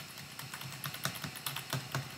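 Soft, quick clicks of buttons being pressed on a keyboard, a light irregular tapping close by and fairly quiet, with no talking.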